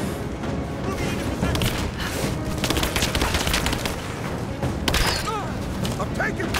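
Sustained gunfire and booms in the Rise of the Tomb Raider video game, dense and continuous throughout, with scattered voices calling out over the shooting.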